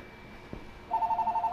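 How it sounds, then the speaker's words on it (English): A telephone rings in the Killzone Shadow Fall finale, a steady electronic warble that starts partway through and repeats in quick pulses against a quiet background. "The phone is ringing again."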